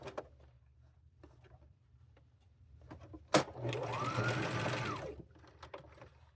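A sewing machine stitches an appliqué stem onto handmade bib overalls, a steady mechanical whir running for about two seconds between light handling clicks and quiet rustles.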